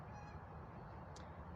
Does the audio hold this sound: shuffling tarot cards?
no